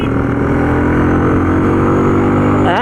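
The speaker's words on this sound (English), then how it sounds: "The grunt, like when I'm revving up, जो पीछे से silencer का जो आवाज़ निकल रहा है ना, वो मतलब ज़बरदस्त" A Benelli Imperiale 400 BS6 motorcycle engine drones at close range with a deep, steady exhaust note from the silencer, then revs upward in a rising sweep just at the end.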